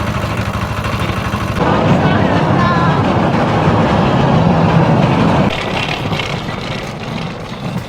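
A small train in Battambang, Cambodia rolls along the rails nearby with a loud, steady rumble, rhythmic clatter and motor roar that shifts in intensity partway through.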